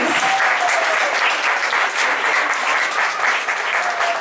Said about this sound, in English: Can we have a big round of applause for all of them, please?